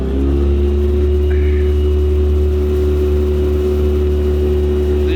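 A fishing boat's outboard engine revs up while carp fishing on the Danube on murky water, a loud steady low drone with strong harmonic hum running throughout and no speech.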